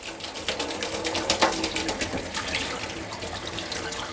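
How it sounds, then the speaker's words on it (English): A household tap runs water into a sink, a steady splashing stream with rhythmic gurgling pulses, close and moderately loud, while an aquarium water change is underway; no one speaks. "And turn on the tap water and boom."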